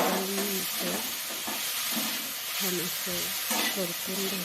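A wheat modak mixture being stirred and roasted in a pan, with a soft sizzle and repeated scraping stir strokes under intermittent voices.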